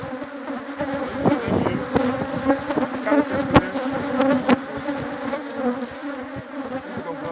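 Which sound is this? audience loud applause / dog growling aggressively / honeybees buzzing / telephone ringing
honeybees buzzing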